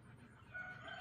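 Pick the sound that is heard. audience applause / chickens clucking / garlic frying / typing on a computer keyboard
chickens clucking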